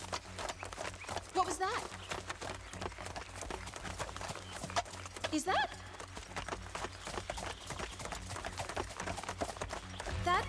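Horse hooves clip-clop in a brisk, steady rhythm through an animated film scene, mixed with busy background sound while characters speak over them.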